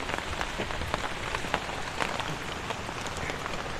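Steady rain patters on a surface close by, a dense continuous hiss with scattered distinct drops ticking through it, heard alone with no voices.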